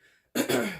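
A single short throat-clearing cough bursts out close and fairly loud after a brief silence, then fades quickly.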